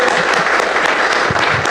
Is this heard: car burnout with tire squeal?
no